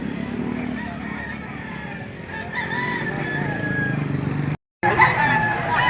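Chickens and roosters at a poultry market in Lipa City, Batangas, with a steady bed of clucking and fowl calls amid a busy crowd; voices talk throughout, and a brief dropout interrupts near the end.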